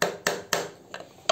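Light taps with a tool on the presser foot part of a sewing machine, four or five short, sharp knocks spaced unevenly within about a second, close and fairly quiet.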